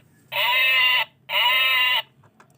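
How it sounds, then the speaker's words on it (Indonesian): A sheep bleating twice, two loud, clear, close calls of about the same length separated by a short pause, with no other sounds around them. "Ini domba."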